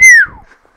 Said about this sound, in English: That was our first chance to test how whistling sounds when we do it right into the mic.